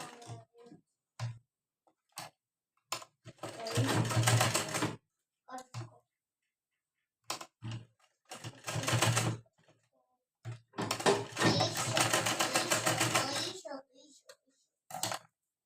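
A domestic sewing machine runs a firm lockstitch seam on a blouse, attaching a cord trim, in two long bursts of rapid clattering separated by short taps, clicks and handling noises.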